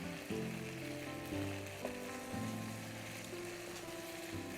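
Chicken pan-roasting dry for a sandwich filling, with a soft, steady sizzle and a low hum, plus a faint clink or two of a spoon stirring the pan; quiet and continuous, no talk.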